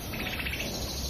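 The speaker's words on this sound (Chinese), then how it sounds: "这个是知了" A cicada sings outdoors, a steady, high, continuous buzz at moderate volume that holds unbroken through the short stretch with no other sounds over it.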